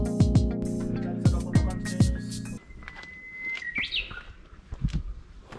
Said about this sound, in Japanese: このウグイスはやらせではありません。 生音です。 本物です。